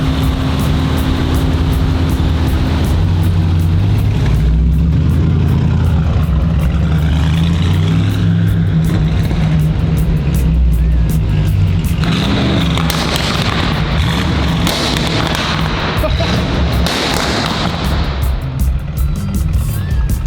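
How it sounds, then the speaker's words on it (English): A tuned Bentley Continental with bad airbags rumbles with a deep, loud engine drone, punctuated midway and near the end by sharp exhaust pops and bangs over the continuous growl. "it's obviously got all the pops and bangs"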